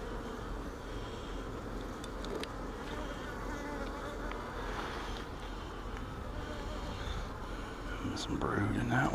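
Honeybees buzzing around an open hive, a dense steady drone close by with individual bees passing near, and a voice murmuring briefly at the end.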